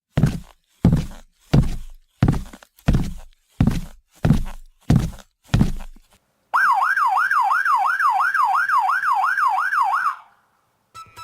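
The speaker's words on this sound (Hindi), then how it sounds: "तभी सायरन बजता है" A police siren wails in a story scene: a loud, fast up-and-down electronic sweep that lasts about four seconds. It follows a series of evenly spaced heavy thuds and then cuts off abruptly.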